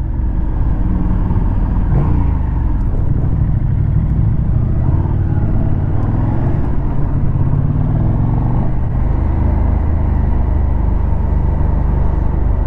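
A KTM Super Duke 1290R motorcycle engine on a test ride, a loud, steady low rumble throughout with slight rises in revs and constant wind and road noise.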